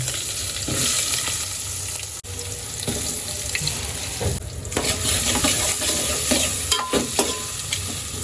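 Potatoes and spices fry and are stirred in a pan for khichdi, giving a steady close sizzle with scraping and clinks throughout, no talking.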